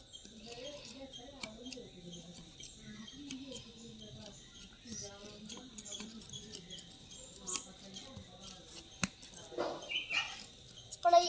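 Garden shears or scissors snip the tops off home garden plants in a run of short, sharp clicks, close and fairly quiet, with faint background murmur throughout.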